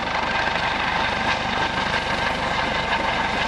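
A Coast Guard search and rescue helicopter hovers close by at an airshow rescue demonstration. Its rotor beats in a steady, rapid thump under a loud, constant turbine whine, with no voices.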